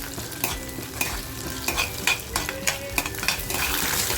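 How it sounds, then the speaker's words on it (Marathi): Chopped onion frying in hot oil for a traditional mutton masala, a steady close sizzle broken by repeated scraping stirs of a spoon against the pan. "तेल टाकते आणि जो कांदा घेतला होता ना कापून तो टाकते कांदा छान फ्राय करून घ्यायचा आहे"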